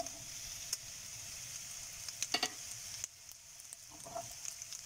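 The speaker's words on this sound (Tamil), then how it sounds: "முந்திரி திராட்சை எல்லாம் வறுத்து எடுத்தாச்சுங்க" Cashews and raisins frying in ghee for rava kesari give a quiet, steady sizzle with a few stirring clinks and scrapes throughout, close up and with no talking.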